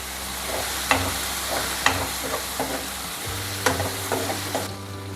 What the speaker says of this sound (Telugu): పప్పులు వేగిపోయాయి కదా, దీంట్లోకి మనం ఉల్లిపాయలు, టమాటాలు, గ్రీన్ మిర్చి 3 వేసి టమాటాలు మగ్గేంత వరకు వేగిద్దాం.